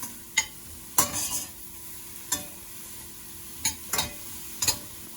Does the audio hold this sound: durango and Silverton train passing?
no